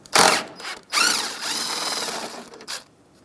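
A ratchet or power driver working 10 mm bracket bolts on a 2007-2015 Mazda CX-9 during A/C condenser replacement, close, loud bursts of whirring clicks with short pauses between runs.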